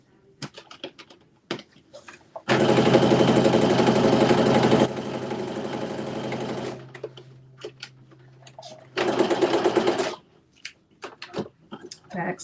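A sewing machine stitching a Simplicity S9822 pattern gives two bursts of close, buzzing motor noise, a long one and a shorter later one, with a low hum between and scattered clicks and taps around them.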